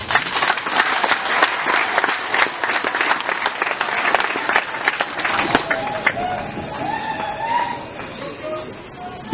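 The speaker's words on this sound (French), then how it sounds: "Je vous prie de l'applaudir." A church congregation applauds, dense clapping from many hands for several seconds that thins out and fades, while a voice and other crowd sounds carry on faintly underneath toward the end.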